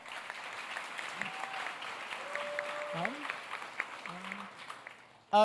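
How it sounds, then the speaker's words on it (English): An audience applauds steadily in a large room at a hackathon opening ceremony, with scattered voices and cheers rising over the clapping before it ends. "Can we get another round of applause for Holt?"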